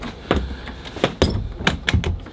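Latching a loose RV bathroom door produces a series of close, sharp knocks and clunks, about five to six distinct impacts spread over a couple of seconds, with no talking.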